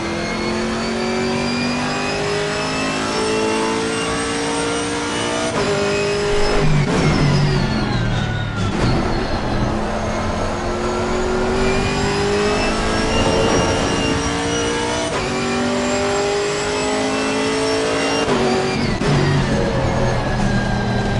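A Camaro race car roars through gear changes in Assetto Corsa Competizione, engine pitch climbing steadily then dropping at each shift, loud and continuous with tire and track noise underneath and no voices.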